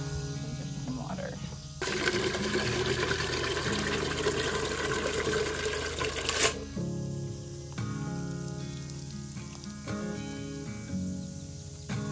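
Water runs from a tap into a container in a kitchen for several seconds as a loud, steady rushing flow, then stops abruptly, leaving quieter room sound.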